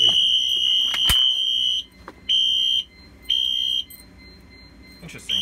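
A shrill electronic fire alarm horn tone from a fire alarm and security system blares loudly, broken by brief gaps into a pulsing on-off pattern, with a sharp click near the start.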